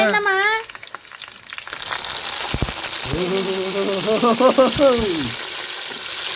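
Brinjals dropped into hot oil with browned onions for masala vankaya curry, a loud, close, continuous sizzle, with a voice crying or whining over it near the start and again midway.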